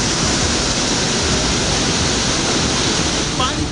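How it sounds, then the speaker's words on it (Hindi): A famous waterfall suddenly bursting with rushing water, heard as a loud, dense, unbroken roar of torrent noise that stays steady throughout with no pauses. "आप 43 सेकंड का रोंगटे खड़े कर देने वाला वीडियो देखने वाले हैं जिसमें अचानक ये मशहूर झरना फूट पड़ता है।"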